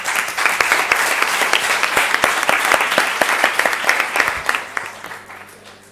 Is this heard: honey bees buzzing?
no